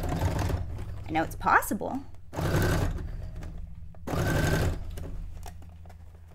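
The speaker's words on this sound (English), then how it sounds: "we're gonna laugh when I'm trying to put this through the sewing machine." A sewing machine runs in short bursts, stitching fabric for an avant-garde cone-shaped cape or dress decorated with a miniature townscape. The whirring comes in two or three close runs, with a person talking quietly between and over them.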